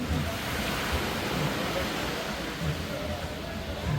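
Ocean surf on a beach in El Nido, Palawan rolls in as a steady, broad hiss of breaking waves, continuous and fairly close, with no clear pauses between swells and low murmurs faintly mixed in.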